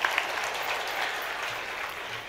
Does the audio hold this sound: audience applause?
yes